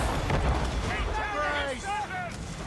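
Ship cannons fire in a naval battle in Assassin's Creed Rogue, with rumbling booms rolling under shouting crew voices throughout.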